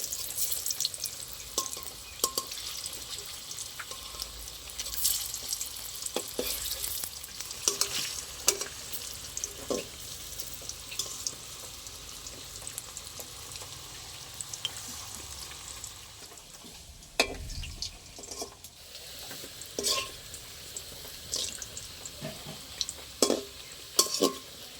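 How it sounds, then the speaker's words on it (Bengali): Raw green banana koftas frying in hot oil in a home kitchen, a soft continuous sizzle with scattered spatter pops and occasional scraping of a spatula, plus some running water. "আমার কোপ্তাগুলো ভালো লাল লাল করে ভাজা হয়ে গেছে"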